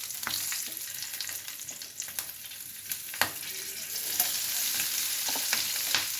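Onions frying in a pan with green chili for a Ruhi fish bharta, a soft steady sizzle with intermittent scraping stir clicks, close up and without talk.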